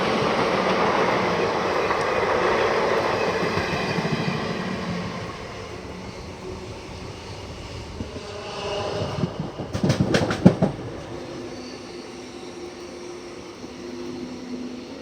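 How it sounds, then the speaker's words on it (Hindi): The Hospet-Mumbai Superfast Express rushes past at a crossing in a loud, steady roar of wheels and wagons, with a sharp burst of clattering near the middle before the rumble fades. "यहाँ पे हमारी क्रॉसिंग हो रही है होस्पेट मुंबई सुपरफास्ट एक्सप्रेस के साथ"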